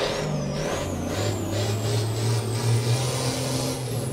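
A Ford Cargo truck's engine roars steadily inside a garage in Euro Truck Simulator, a loud, continuous low rumble with a faint rising whine above it, heard alone throughout.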